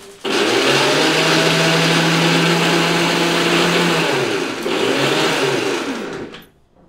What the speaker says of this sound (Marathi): आता हे आपण मिक्सरला बारीक करून घेऊ